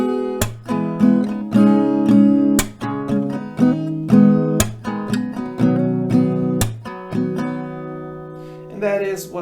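Acoustic guitar playing a song, picked bass notes and chords ringing out in a steady rhythmic pattern, close and clear with no voice.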